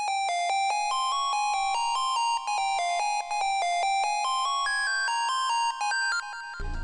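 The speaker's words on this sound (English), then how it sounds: "but I layered it with this lead from Purity" A bright synth lead from the Purity plugin, layered with piano, plays a quick, bell-like melodic line in a beat for a futuristic glo-style track, chiming steadily and fairly softly with no talking.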